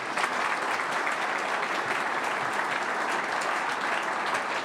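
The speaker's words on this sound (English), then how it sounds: "So can everyone give her a round of applause, please?" Sustained audience applause fills a press conference room for a new head coach, steady and dense throughout with no speech over it.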